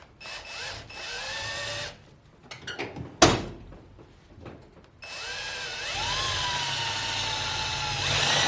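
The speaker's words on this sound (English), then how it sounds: "5/16 drill bit. Drill tool, my Hercules." A power drill with a 5/16 drill bit whirs in two long bursts through mounting brackets for a coolant system, its pitch rising as it spins up, with a sharp knock and clatter between them.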